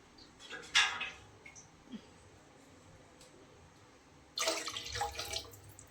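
Water is poured into a pot of rice in two short bursts, a splashing pour, then a pause with faint clinks, then a longer pour into the pot, close by.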